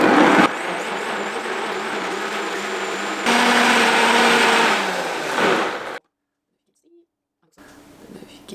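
A loud blender with its tamper attachment roars steadily for about six seconds, shifting pitch partway through, then cuts off into silence before faint room sound returns.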